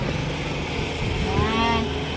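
A motorcycle passes along an outdoor community path, its engine hum swelling to a rising whine in the second half before fading, over steady ambient noise.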